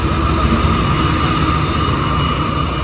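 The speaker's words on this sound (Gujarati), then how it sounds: "ટ્રેન આ પાટા ઉપર આવવાની છે" A train pulls into Bhildi Junction station with a dense, continuous rumble that stays loud and steady throughout and has no talking over it.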